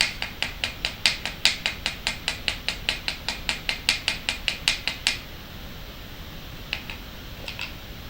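A hammer taps metal about twenty times in a quick, even rhythm, sharp and close, then stops, leaving a few faint taps after a pause.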